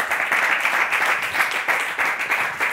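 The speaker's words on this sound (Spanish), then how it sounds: "Un aplauso para el batín" Loud, dense applause from a live studio audience at a talk show, many hands clapping continuously with slight surges in intensity throughout.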